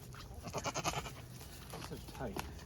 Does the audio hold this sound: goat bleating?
yes